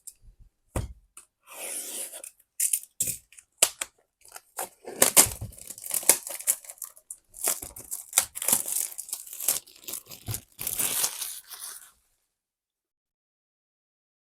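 Bowman 2025 baseball card hobby packs torn open one after another, with sharp ripping bursts and crinkling foil wrappers close up for about twelve seconds before going quiet.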